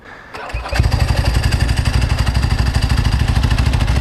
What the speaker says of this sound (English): Let's fire it up. So this is how it starts when it's warm.